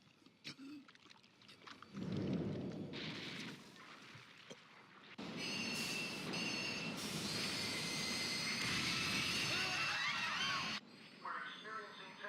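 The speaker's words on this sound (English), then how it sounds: "The inbound train will soon be arriving at platform number 1." In the Persona 5 Royal video game, a train pulls into a station platform with a roaring, hissing rumble and high metallic squeal of brakes, loud and sustained, preceded by quieter station ambience.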